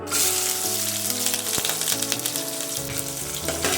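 Onion and curry leaves fry in hot oil for a vegetable pulao, giving a loud, steady sizzle that runs throughout with a soft tonal hum underneath and no voices.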